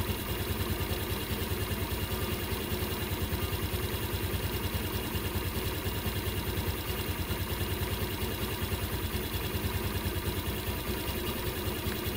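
A Suzuki Burgman Street scooter engine idles steadily during an RPM adjustment, giving a close, constant, even chugging putter with no voices.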